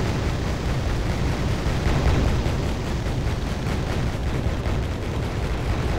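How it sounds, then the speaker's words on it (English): Dense, continuous battle noise as an armored convoy comes under attack from pirates in the war strategy game Wargame: AirLand Battle, with explosions and gunfire blurring into a loud, unbroken roar. "So here we have an armored convoy coming down the road, getting blasted by these pirates."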